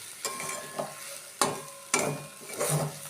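Fenugreek greens and eggplant cook in a pan, a steady close sizzle broken by several sharp scraping strokes of a spatula stirring the vegetables.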